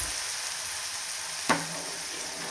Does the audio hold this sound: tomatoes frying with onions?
yes